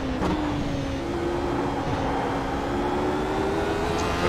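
A Radical SR8 race car in the iRacing simulator drones at night at Summit Point, its engine tone sustained and slowly rising and falling, loud and close, with no talk.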